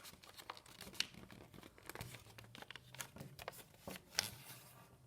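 Sheets of white paper being creased and folded back to back for a flextangle craft, with repeated close crinkling and sharp crisp snaps of paper, no talking.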